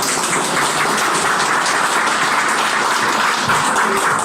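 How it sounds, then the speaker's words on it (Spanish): A church congregation applauds loudly in a dense, continuous wash of clapping, rain-like and unbroken from start to finish. "Denle un aplauso al Señor"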